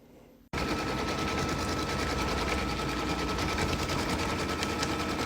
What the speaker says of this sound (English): The machine's going to go around and tack it down, and then it's going to do the quilting.